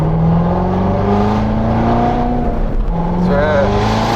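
A Corvette C7 Z06 with a manual gearbox and an aftermarket Akrapovic exhaust holds a deep, loud, steady engine drone heard from inside the car, with a slight rise in pitch toward the end and faint voices underneath.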